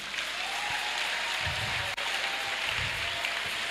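A church congregation at a Sunday service claps together in steady, sustained applause. It fills the room at moderate volume, with a few stronger swells partway through and no talking over it.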